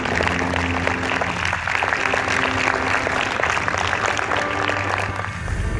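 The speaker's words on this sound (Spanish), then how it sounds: "Otra vez un aplauso aquí para los grupos." A crowd applauds winning groups at the 2015 Don Lorenzo Servitje award ceremony for young entrepreneurs with social responsibility, a loud, dense and continuous clapping over a low hum that eases slightly at the end.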